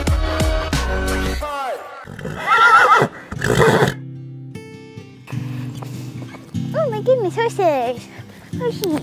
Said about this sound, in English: Horses. I love them.